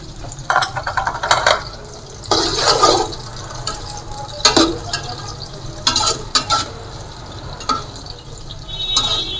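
Finely chopped onions fry in ghee until brown for a mutton biryani, giving a steady sizzle broken by repeated bursts of spoon scraping and stirring against the pot, close and moderately loud with no talking.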